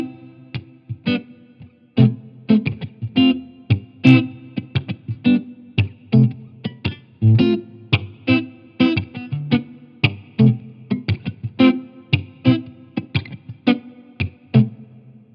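An electric guitar runs through the plate reverb on a Line 6 HX Stomp, playing a clean, rhythmic pattern of plucked chords and notes with lush, smooth decay filling the gaps, heard alone.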